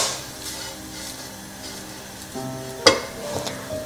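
Grated coconut roasting in a hot frying pan for a bitter gourd curry, a steady soft sizzle with occasional stirring scrapes and one sharp clink of a utensil near the end, close and with no talking.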